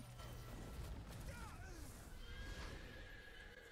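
Horse whinnying in a fantasy video game, a rising and falling neigh over steady game noise and a low rumble, with faint talk beneath.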